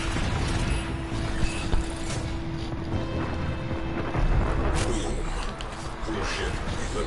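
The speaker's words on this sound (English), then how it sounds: "Supermondo Death Cannon!" The Super Mondo Death Cannon fires in a video game: a loud, sustained mechanical roar with rattling and grinding layers that runs unbroken for about seven seconds, with faint talk underneath.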